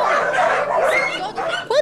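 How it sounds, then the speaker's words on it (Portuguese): Many dogs at a street-dog shelter bark and yip together in a dense, continuous chorus, with sharper yelps near the end. "E no meio de tantos latidos"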